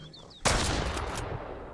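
Loud gunfire erupts in the Mist Survival video game, a sharp blast followed by a sustained roar of reverberant shots.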